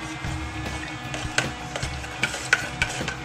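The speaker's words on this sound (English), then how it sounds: "You've had a real good stir." A spoon stirring home-distilled spirit in a container, giving soft scraping swirls with a few sharp clinks against the side, close and moderately quiet, with no talking.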